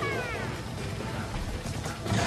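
Cats in the action game Monster Hunter 3 Ultimate let out wavering meowing cries amid a busy, noisy battle with a monster, the yowls clear at the start and surrounded by steady game sound.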